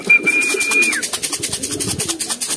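A racing pigeon gives a run of soft, throaty, pulsing coos close by, with a thin whistle-like tone at the start.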